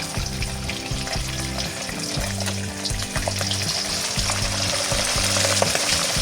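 Pork belly for lechon kawali sizzles and crackles in hot oil, close and continuous, with a low harmonic hum pulsing underneath.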